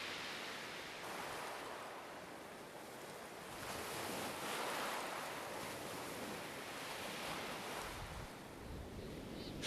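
Ocean surf breaking on the reef at Clipperton Island, a steady roaring wash of waves with continuous broadband rush and wind noise, fairly loud and unbroken throughout, no voices.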